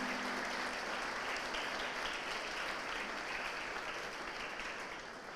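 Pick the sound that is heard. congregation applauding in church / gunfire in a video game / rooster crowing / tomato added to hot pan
congregation applauding in church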